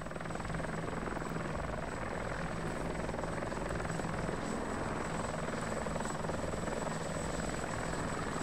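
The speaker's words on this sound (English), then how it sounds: "Get on the chopper now." Helicopter in the military game ArmA 2, a steady, loud rotor and engine drone holding constant throughout with a continuous high whine on top.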